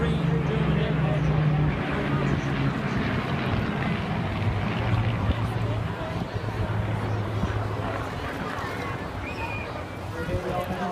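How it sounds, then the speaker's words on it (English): Supermarine Spitfire at the Clacton Airshow flying a solo display, heard as a steady, broad propeller-engine drone with a low hum, continuous and fairly loud, easing slightly in the second half, while people talk over it. "flying off to the left while the Spitfire is out in front of us"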